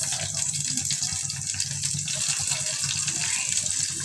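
Garlic and then onion dropped into hot oil in a wok for tempering dal, giving a steady, fairly loud hissing sizzle that runs unbroken throughout with no talk.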